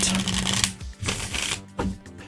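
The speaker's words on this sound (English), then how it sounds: "Let's just do another couple shuffles just to make sure it's as random as I can possibly get it." Tarot cards being shuffled in quick riffling bursts, a crisp fluttering rustle with short pauses between shuffles, close and fairly loud.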